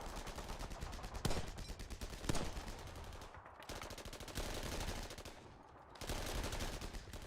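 Rapid bursts of gunfire crackle in quick succession, loud and dense, with brief pauses between volleys.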